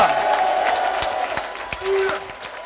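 A church congregation at a thanksgiving service loudly acclaims the Lord with cheers, whoops and clapping, crowd voices rising together, with a sustained ululating tone over the noise.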